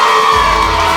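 Loud crowd at a wrestling event in downtown Las Vegas screaming and cheering, a dense sustained roar of whoops and yells that swells after the first third of a second.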